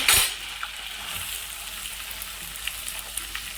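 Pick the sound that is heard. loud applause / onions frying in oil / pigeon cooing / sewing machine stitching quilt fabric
onions frying in oil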